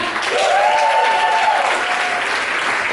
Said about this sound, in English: A big round of applause for Marco, everybody, come on!